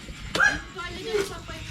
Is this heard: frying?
no